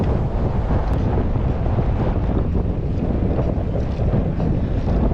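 Strong southerly headwind roars and buffets against the microphone during a bicycle ride, a constant loud rushing gust without a break.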